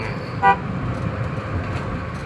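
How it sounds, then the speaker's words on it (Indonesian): A single short car horn toot from a 2014 Datsun over a steady engine rumble and road noise. "Klakson."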